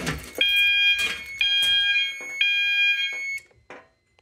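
A System Sensor MASS fire alarm sounding during a system test: loud, piercing tonal blasts in repeated pulses with short gaps, cutting off near the end, with no talk.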